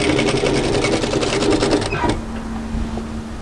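A sewing machine runs fast and close as it stitches the side seam of a V-neck camisole. The rapid, even whirring stops abruptly about two thirds of the way through, leaving a quiet hum.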